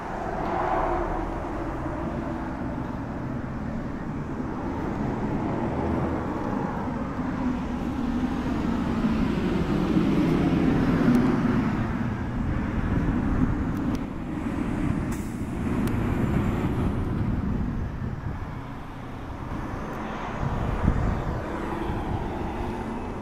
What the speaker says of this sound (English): I'm not sure if I did or not with all the highway noise